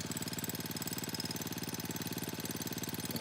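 A farm water-well drilling rig's engine runs steadily with a rapid, rhythmic pounding beat, loud and continuous with no voices.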